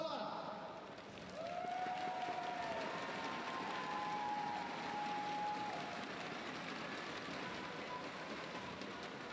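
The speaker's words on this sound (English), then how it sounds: "another round of applause for Pusala." Sustained audience applause at the Hong Kong Badminton Open 2017 finals for the badminton player Pusala. A steady, rain-like wash of clapping fills the arena, with a voice audible faintly over it.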